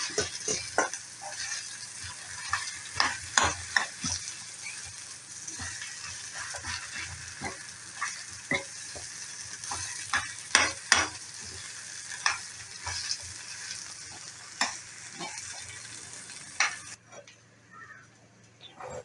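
Mashed potato being stirred into a hot pan with salted, sautéed aromatics for potato bonda, a steady sizzle of frying broken by repeated scraping strokes of the spoon, close and clear throughout.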